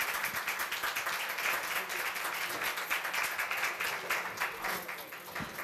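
Audience at a university labour culture award ceremony applauding a documentary film director as she comes to the stage, steady full-room clapping, somewhat distant and even in level throughout.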